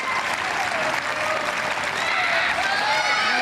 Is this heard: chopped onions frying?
no